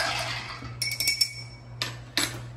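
A cocktail spoon clinks against a glass while stirring a smoked rum old fashioned, giving several bright, ringing taps spaced irregularly, close and fairly quiet.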